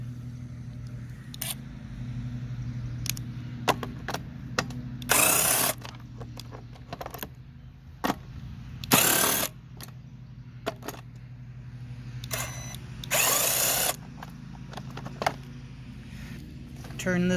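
A power tool whirs in three short, loud bursts while removing screws from a lawn mower carburetor, with clicks and light handling noises from the tool and parts in between, close by under a steady low hum.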